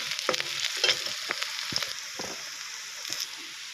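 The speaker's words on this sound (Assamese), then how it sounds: "ৰঙা পিঁয়াজখিনি ৰঙচুৱাকৈ ভাজি ল'ব ধুনীয়াকৈ" Red onions frying in a pan for black gram dal, a steady close sizzle broken by several spatula scrapes and stirs, with no talk.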